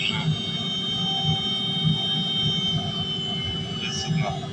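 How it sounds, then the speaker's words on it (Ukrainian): A steady mechanical hum and low roar runs continuously, with a faint whine on top, like a diesel air heater working at a constant level, running at 3 kW while heating a house. "Автономка перейшла в 3 кВт, якщо по звуку то чуєте."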